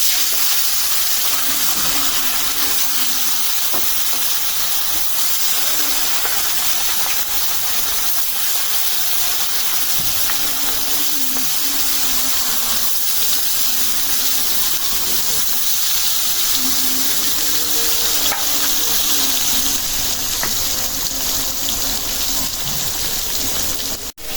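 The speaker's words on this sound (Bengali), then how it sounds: "তেল গরম হয়ে গেছে মাছ দিয়ে দিলাম" Fish sizzles steadily in hot oil in a home kitchen, a continuous loud hiss and crackle like rain on a surface that holds evenly throughout with no pauses, and a faint voice occasionally beneath it.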